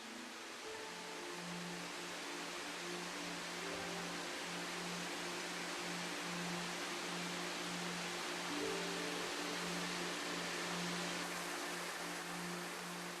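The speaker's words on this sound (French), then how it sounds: "L'eau jaillit implacablement de la falaise." Shiraito no Taki, the cliff waterfall at the foot of Mount Fuji, pours in a steady, dense broadband roar with a faint low hum underneath, constant throughout with no talk.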